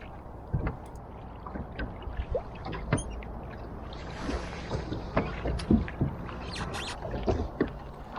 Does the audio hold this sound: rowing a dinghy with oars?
yes